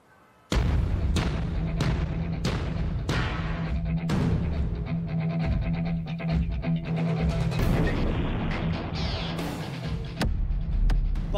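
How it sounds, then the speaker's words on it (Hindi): Explosive charges bring down the Twin Towers high-rise buildings in a controlled demolition in India, a rapid run of loud, sharp blasts and booms followed by a rolling rumble of collapse, with no talk. "बारूद से ट्विन टावर में विस्फोट"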